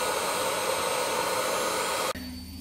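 A heat gun blows steadily while heating old paint on window frames, a loud, even broadband roar that runs close and continuous for about two seconds, then cuts off abruptly to a low background hum.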